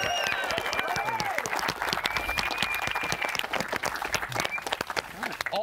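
Golf tournament crowd applauding at the 18th green of a skins match at Eagles Crossing, dense steady clapping throughout with scattered whistles and cheers, fairly close and loud.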